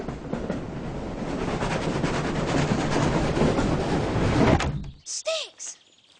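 A train rumbling steadily along a railway, a loud continuous roar with rhythmic clatter close by, cutting off abruptly and followed by brief calls from people.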